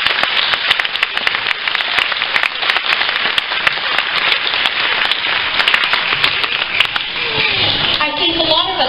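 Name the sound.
school ceremony audience applause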